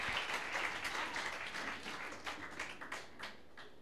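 A church congregation at a seminar applauds, a dense, steady patter of many hands clapping close by, easing slightly toward the end with a few sharper individual claps standing out.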